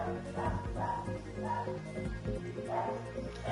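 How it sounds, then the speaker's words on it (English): A pet dog barks a few times at a moderate distance in a short, spaced series of yips over a low background hum, with people talking around it. "Why is my dog barking?"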